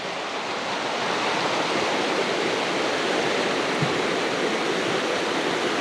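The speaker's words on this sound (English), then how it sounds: "Okay, we made it down to creek level." Salmon creek water rushing in a steady, dense broadband roar, close and loud throughout with no breaks and no voices.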